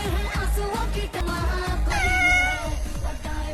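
A cat meowing indoors, a few drawn-out whiny meows, close and fairly loud over a low background hum.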